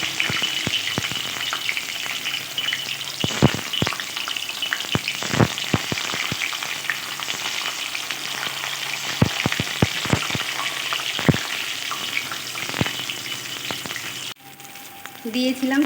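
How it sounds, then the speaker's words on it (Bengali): Pieces of flour gluten deep fry in hot oil over a high flame, a loud, close, continuous bubbling sizzle dotted with crisp popping crackles and occasional utensil knocks, ending with a short change in the sound. "এবার আমি গুলটনের টুকরোগুলো তেলে দিয়ে ভালোভাবে ভেজে নেব।"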